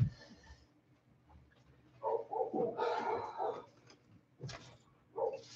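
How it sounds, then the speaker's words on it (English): A dog barks in short bursts from a distance, loud yelps separated by quieter gaps, with faint background noise between. "You hear Loki out there loudmouth barking at the neighbor?"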